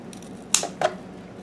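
Two quick, crisp snips sound close up as a plant stem is cut for propagation, a sharp click followed shortly by a second one, faint and isolated against a quiet background.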